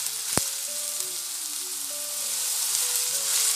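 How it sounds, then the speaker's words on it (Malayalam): Chopped shallots sizzle steadily in a hot pan, a dense bright frying hiss with a single sharp clack near the start as they are stirred; no voices. "ചെറിയുള്ളി ഒന്ന് ഇളക്കി കൊടുക്കാം."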